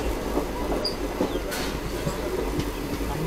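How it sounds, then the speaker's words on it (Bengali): The Kanchan Kanya Express runs through hill and forest country, a continuous rumble of wheels on rails with faint rhythmic clicks and occasional light squeals, heard steadily from aboard the moving train. "এক পাশে পাহাড় জঙ্গল আর এইভাবে ট্রেনটা বেগছে আমাদের ট্রেনটা"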